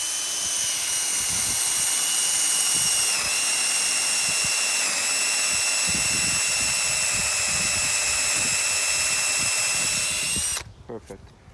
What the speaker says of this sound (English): So I'm gonna drill till I hit the tape.